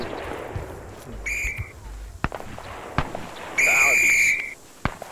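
A whistle blows in a video game, two sharp shrill blasts, the second longer and louder, amid scattered gunfire-like cracks and thuds.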